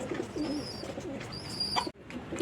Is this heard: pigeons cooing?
yes